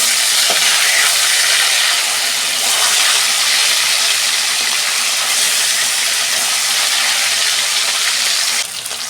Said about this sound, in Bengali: এই ভোলা মাছটা একটু লাল লাল করে ভাজবো